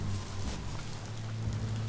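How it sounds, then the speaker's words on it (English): Rain in the action game Biomutant, a continuous hiss of rainfall on surfaces over a low droning hum from the game, steady and moderately loud, with no voices. "Is that rain? Oh man."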